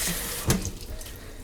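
Tap water runs steadily into a sink, a soft continuous splashing with one brief louder gush near the start.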